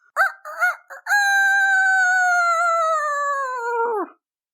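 A rooster on a farm crows right outside a kitchen window: a loud, close call with two short opening notes, then one long sustained tone that slides gently downward and ends in a brief break, alone with no talk.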